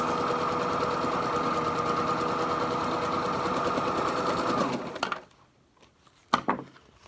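A sewing machine runs in a steady, close whirring burst for about five seconds, stitching across a fabric face mask, then stops, leaving a few light clicks and handling noises.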